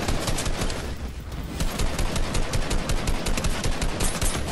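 Rapid, loud automatic gunfire from a video game rattles on continuously in dense bursts, close and unbroken, with no talk over it.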